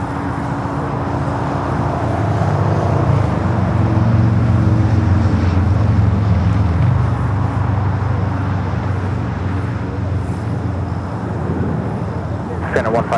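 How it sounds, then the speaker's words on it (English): An Air China Boeing 777 bound for Beijing takes off from the north runway at LAX, producing a loud, steady jet roar that swells and then holds, mixed with distant traffic hum. "Air China heading back to Beijing, 777 up next for takeoff there on the north"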